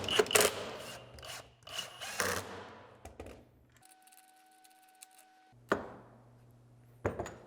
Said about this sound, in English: To secure it, I'm using 1 1/4 inch screws and also 3-inch screws to go all the way down to the sled itself.